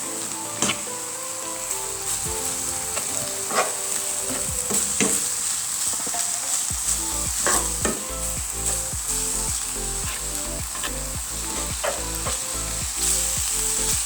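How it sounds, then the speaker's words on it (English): Minced beef with mixed herbs sizzling in a pan for Jamaican beef patties, a continuous close crackling fry with repeated scraping stirs of a utensil, no talk. "as your mince is on this way cooking"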